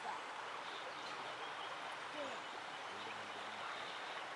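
A river flowing below a hillside campsite in the early morning, a steady broadband rush of water heard from a short distance, continuous and even, with faint low murmurs of voices underneath.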